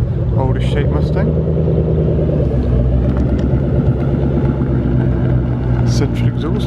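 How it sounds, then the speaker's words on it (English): A deep, loud older-shape Ford Mustang engine rumble idles steadily throughout at a car meet, with someone talking over it. "Older shape Mustang."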